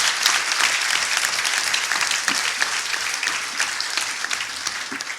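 A conference audience applauds at the opening of an international dynamical systems conference, dense sustained clapping from many hands, loud and even throughout the five seconds with no talk over it.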